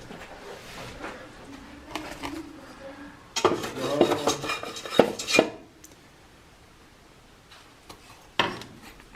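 Pots and pans in the kitchen of an abandoned farmhouse clatter and scrape in a burst of knocks and rattles midway, with quieter clinks and a brief bird-like coo around it, fairly close.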